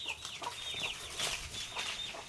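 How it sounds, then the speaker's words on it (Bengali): Village chickens, including a hen with chicks, cluck and chirp faintly in the background, thin high calls scattered over a steady outdoor hum with no one speaking. "কত মুরগি, একটা মুরগি 4টা বাচ্চা দিছে।"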